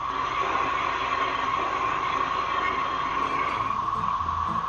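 Worn brakes on a Ford F-150 pickup give a steady, loud grinding and hissing scrape that holds unbroken through the whole stretch, with no talk over it.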